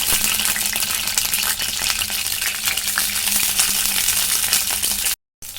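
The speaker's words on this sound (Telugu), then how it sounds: "ఇప్పుడు కొద్దిగా ఆయిల్ పోసుకొని పచ్చిమిర్చి వేయించుకున్నాం" Green chillies fry in a little oil in a pan for mint chutney, a constant loud sizzling hiss with faint stirring clicks, cutting out briefly near the end.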